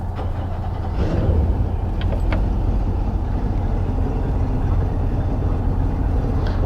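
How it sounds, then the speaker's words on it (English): A boat motor at a launch ramp turns over and catches within a second, then keeps running at a loud, steady idle close by. "we're going to go ahead and fire up the motor and get it running before he ever backs up"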